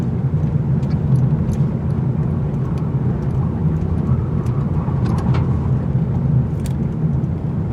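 A 2019 Mazda 3 hatchback with all-wheel drive cruising on the road, a continuous loud cabin hum of engine and tyre roar with no speech over it.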